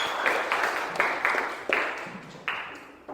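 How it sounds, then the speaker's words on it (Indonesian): A few separate claps ring out in a classroom after a student's answer, each sharp hit trailing off in a short echoing decay, spaced irregularly and moderately quiet, with no talking during them. "Yuk berikan tepuk tangan dulu atas jawaban temannya ya."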